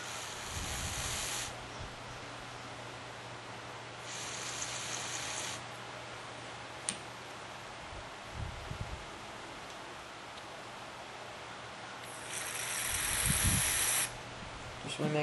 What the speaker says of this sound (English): I'm just using Gum Out Small Engine Carbon Choke Cleaner. It's jet spray kind.